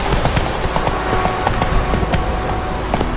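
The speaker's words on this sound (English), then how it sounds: "Run, Roach" A horse gallops in The Witcher 3, its hooves drumming in a fast, steady clip-clop rhythm at close range and fairly loud throughout, with no speech over it.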